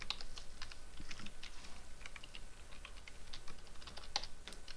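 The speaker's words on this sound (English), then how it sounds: "what I want you to do is type this in Desmos" Rapid, continuous typing on a computer keyboard, with quick light clicks and taps at a steady pace, close and fairly quiet, with no voices.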